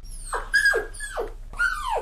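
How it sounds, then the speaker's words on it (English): A dog in a video game whimpers and whines in a run of four rising-then-falling cries, close and clear with no talk over them. "My doggy! No!"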